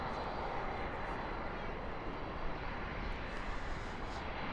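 Boeing 747 jet at Dallas/Fort Worth airport at night, a steady, broad engine roar held at an even level throughout with no voices.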